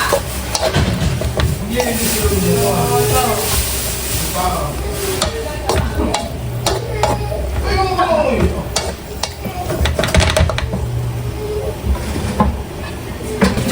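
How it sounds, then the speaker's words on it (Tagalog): Steady bubbling and sizzling from water spinach boiling in a pan on the stove, with occasional stirring clatter, continuous and close throughout. "kumukulo na po itong ating kangkong"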